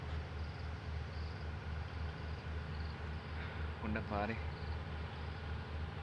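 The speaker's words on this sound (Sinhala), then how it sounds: "දැන් ඉතින් ජෙනරේටර් සද්දේ මෑනවා." A generator runs near a station on a jungle mountain, giving a steady low droning hum with insect-like buzzing over it. A voice speaks briefly partway through.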